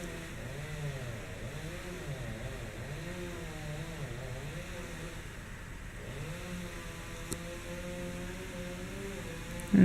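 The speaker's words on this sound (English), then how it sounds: "Now they're sawing off the old pole, I bet." A chainsaw cuts through an old utility pole, its buzzing engine rising and falling in pitch as it revs and bogs through the wood, steady and moderately distant, with truck noise around it.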